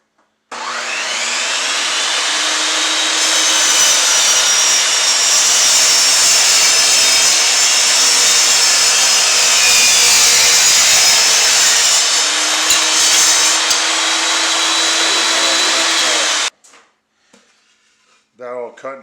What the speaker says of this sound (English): But got the table saw.